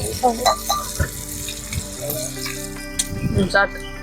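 Fish frying in a pan gives a steady sizzle with occasional clinks, under someone talking close by.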